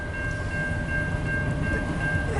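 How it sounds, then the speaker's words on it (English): Long Canadian National westbound priority manifest freight train rolling past close by, a loud steady rumble of rail cars with wheel clatter and a sustained tonal ring, continuous throughout with no talk. "It's gonna be a long train."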